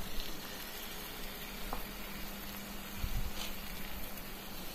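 Half a kilo of cleaned chicken frying in a pan for pepper chicken with masala: a steady, soft sizzle with occasional faint clatter of stirring, low and continuous without speech.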